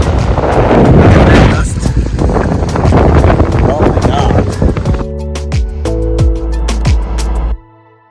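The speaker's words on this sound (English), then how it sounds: "it's very windy" Heavy, buffeting wind roars across the microphone for most of the clip, loud and gusty, easing slightly near the end before cutting off, beside the Eel River in Humboldt Redwoods State Park.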